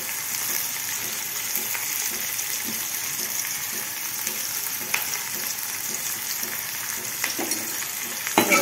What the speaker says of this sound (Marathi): कढीपत्ता, थोडासा कांदा, 2 मीडियम आकाराचे कांदे इथे तुम्ही कट करून याच्यामध्ये टाकून